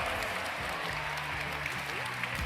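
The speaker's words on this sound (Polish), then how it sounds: "Prezes Jakub Kępa, wielkie brawo" Applause for club president Jakub Kępa at a Motor Lublin speedway club gala, a steady dense clapping from a crowd that fills the room with no pause.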